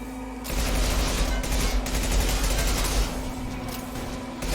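Rapid automatic gunfire in Mass Effect 2, a dense loud fusillade of shots rattling nonstop and close, with a low steady hum running beneath it.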